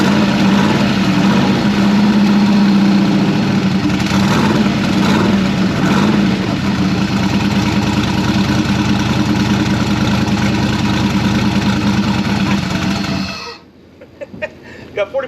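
A rebuilt car engine runs steadily after being started, a loud continuous idle with a constant drone that holds for about thirteen seconds and then cuts off abruptly, leaving quiet clatter and small knocks.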